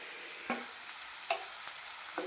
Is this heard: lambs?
no